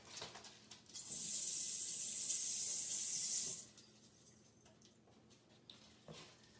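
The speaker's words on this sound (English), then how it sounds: "let me rinse this off real quick" A kitchen tap gushes for about three seconds as something from a cranberry orange cake bake is rinsed under it, a bright steady hiss of running water, then shuts off, leaving quiet room tone with small clinks.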